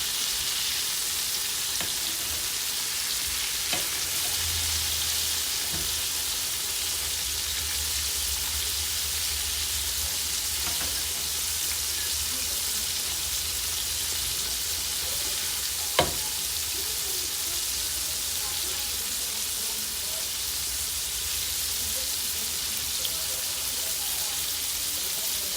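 Liver sizzles and fries in a pan on a stovetop at setting 4, a steady crackling hiss running throughout, with occasional soft clinks of turning the pieces and no talk.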